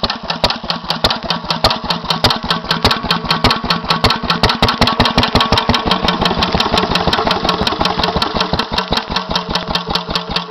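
A 1942 Lister B 5hp stationary engine runs close and loud, its rapid, even exhaust beats pounding out a steady mechanical rhythm with no talking.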